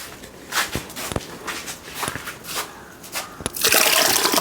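Liquid paste mixed with water is poured into large cooking pots for chicken porridge, a rushing gush near the end following scattered footsteps and clatter.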